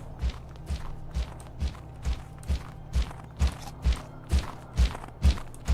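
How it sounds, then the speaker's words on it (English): Footsteps in the video game Loomian Legacy thud in a steady, even rhythm of about a dozen close, loud steps, with no talk over them. "his footsteps are so close. They're so loud."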